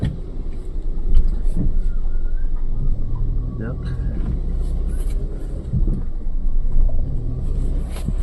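A car engine rumbles steadily up close as the vehicle is brought out and driven off toward the market, a continuous low drone with faint scattered voices over it.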